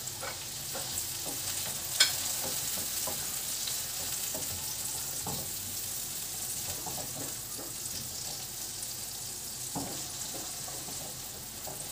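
Garlic and onion sautéing in a pan for a ginisang ampalaya (bitter gourd) dish, a steady close sizzle with scattered clicks and scrapes of stirring and one sharp knock.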